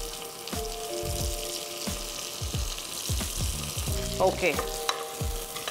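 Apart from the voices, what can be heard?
mint leaves sautéing in a pan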